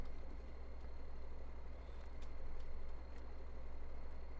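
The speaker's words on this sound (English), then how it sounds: "It sounds like a diesel truck at idle." A tractor's diesel engine idles in Farming Simulator 19, a steady low rumble like a diesel truck, with a continuous drone and faint high whine running evenly throughout, fairly quiet and alone without talk.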